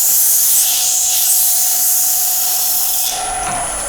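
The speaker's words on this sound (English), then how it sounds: "I've just given it just a quick sand with 120 just to show you how it works" Steady, hissing abrasive rubbing of 120-grit sandpaper held by hand against a wooden vase spinning on a lathe, continuous and fairly loud, with a shift in tone near the end.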